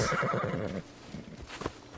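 A horse whinnies loudly in Assassin's Creed Odyssey, a long shaky neigh over the first second, then fading into softer hoof clops and a faint snort with no speech.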